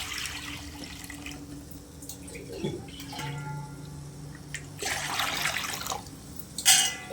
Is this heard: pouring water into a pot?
yes